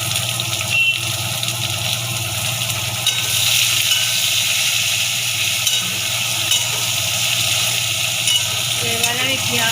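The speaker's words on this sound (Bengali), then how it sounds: "এবারে আমি পেঁয়াজটা ভালো করে লাল লাল করে ভাজবো।" Onions frying in a pan after browned garlic, for a lentil dal with banana stem: a steady, loud, continuous sizzle with occasional stirring scrapes, no talking.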